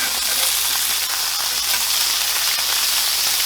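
Cheeseburger patties sear on a cast iron pan with a steady, dense sizzle that stays loud and even throughout, with no talking.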